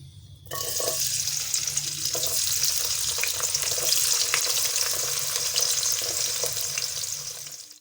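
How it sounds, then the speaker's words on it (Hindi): Onions hit about four to five spoons of hot cooking oil in a pan and burst into a loud, sustained sizzle that carries on with light crackles until it cuts off. "सबसे पहले इसमें कुकिंग ऑयल डालेंगे, तकरीबन 4 से 5 चम्मच। अब इसमें प्याज शामिल करेंगे।"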